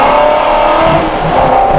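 A modified 2017 Ford GT350 revs hard on a wet Circuit of the Americas race track, its engine roaring loud and close in one continuous sustained pull, with no voices.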